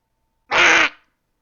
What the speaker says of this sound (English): a bird swoops down. That's definitely what that sounds like.